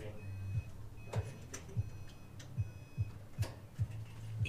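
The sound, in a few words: Subaru Impreza warning beeping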